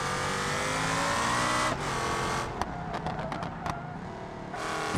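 A diesel V10+V8 ETK car in BeamNG Drive laps a circuit, its engine droning loudly at high revs, then dropping off after a shift into lower, choppier running, with clicks before it surges again.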